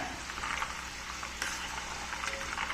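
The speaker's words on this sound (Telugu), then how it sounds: "ఇట్లా కంటిన్యూషన్గా ఇలా తిప్పుతూ వేయించుకోవాలన్నమాట" Rice flour and butter balls frying in hot oil, being turned continuously: a dense, steady sizzle and bubbling crackle, close and moderately quiet, with no voices.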